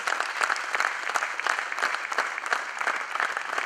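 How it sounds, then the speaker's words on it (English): Conference audience at an IT awards ceremony claps in a sustained round of applause welcoming a guest onto the stage, the crisp individual claps dense and steady throughout. "Let's have a huge round of applause for her."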